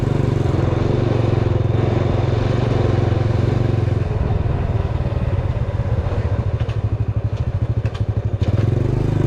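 A small motorcycle engine putters steadily close by, with a rattling, chugging rhythm that grows choppier as it rides along.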